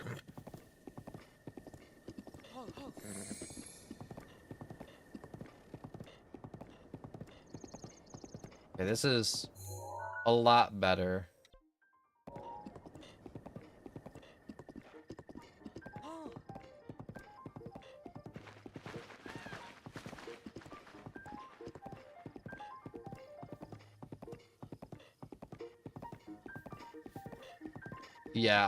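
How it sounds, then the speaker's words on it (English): Horse hooves in the video game Breath of the Wild, a steady rhythmic clip-clop of a ridden horse that keeps going for the whole stretch, with a whinny and a brief gap partway through and someone talking over it. "All right, come here, horse."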